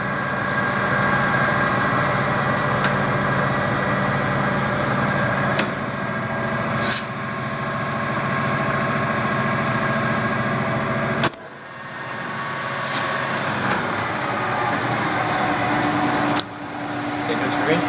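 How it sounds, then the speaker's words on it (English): A Clausing Colchester VS12 lathe hums steadily with its half nut feed engaged, a constant whirring machine drone with occasional small clicks and knocks, while someone talks over it. "show you the half nuts work. So your half nuts feeding."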